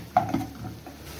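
A pan of meat frying in oil with a spoonful of garlic and a whole onion is stirred, giving a couple of close scraping clinks of the spoon against the pot over a soft, steady sizzle.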